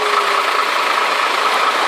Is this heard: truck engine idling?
yes